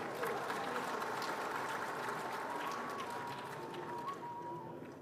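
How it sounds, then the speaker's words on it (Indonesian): An audience applauds steadily through a lecture hall during a ceramah delivered before the Indonesian president, with dense clapping and crowd noise throughout and a faint tone sustained underneath. "Tepuk tangan dulu dong."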